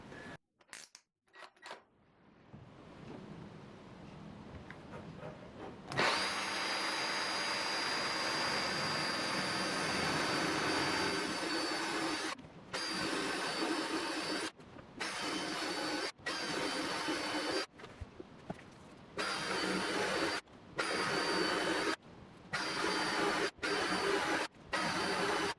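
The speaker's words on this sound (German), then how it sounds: "nochmal mit dem Staubsauger die Bohrungen alle gesäubert" A vacuum cleaner sucks dust out of drilled holes in wood for a small homemade coat rack, a steady loud whine that cuts off and restarts in short bursts after a quiet start.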